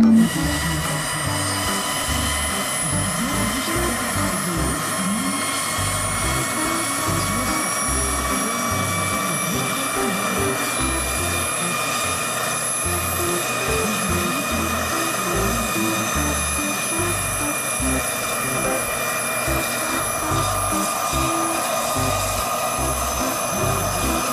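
Steady whirring motor drone with high whining tones from a toy helicopter's rotor spinning continuously at close range, with faint voices underneath.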